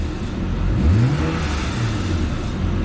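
A car engine revs up once from idle and settles back, a short rising-and-falling mechanical surge heard up close with no voices.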